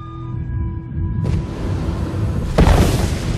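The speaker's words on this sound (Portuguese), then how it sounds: "Como um tiro de revólver, gases quentes e escombros são lançados no espaço por essas mortais explosões solares." A deep boom sound effect for a supernova explosion hits with a sudden low rumbling swell, followed by a second heavier impact near the end, loud and booming with no voices.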